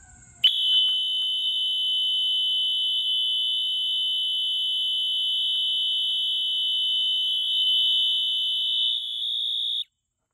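Wheelock MT-24-LSM and Gentex GX-90 fire alarms sound together as a loud, piercing, continuous high electronic tone that starts suddenly, holds steady for about nine seconds, then cuts off.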